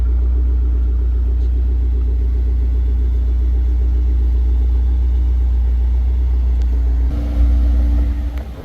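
A tuned 2015 BMW M6 Gran Coupe, stage 2 DME tune with Corsa exhaust, rumbles at a steady loud idle, deep and close, with a slight blip of revs near the end.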